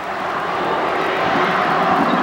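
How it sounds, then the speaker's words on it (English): A basketball game crowd makes a loud, continuous roar in an arena at a girls' state semifinal, a dense broadband swell that builds slightly louder over its brief span, with no distinct voices standing out. "crowd making a lot of noise here. They're eating it up."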